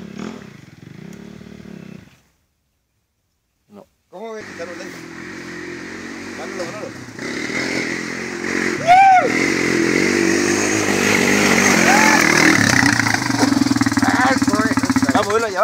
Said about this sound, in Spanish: ¿Se escucha el motor?